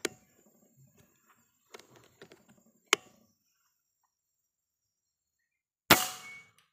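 A slingshot shot strikes an Aqua bottle cap at a shooting range, giving sharp isolated cracks and metallic clinks, with a louder, longer impact burst near the end against a quiet background.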